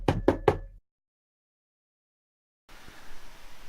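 Three quick, sharp knocks on a locked door, close and loud, followed by silence and then low room noise.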